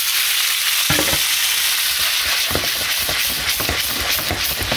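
Drained noodles frying in a hot pan for a pork sauté: a steady loud hiss and sizzle throughout, punctuated by scraping and tossing clacks of a utensil against the pan.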